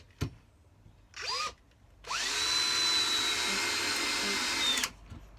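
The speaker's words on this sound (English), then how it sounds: "Let's compare that to the normal drill again." A normal cordless drill drives a screw, with two short whirring bursts followed by a longer steady high-pitched drilling run of about three seconds, close and loud, then stopping.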